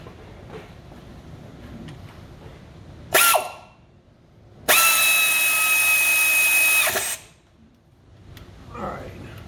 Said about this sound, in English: Turn my wrench around.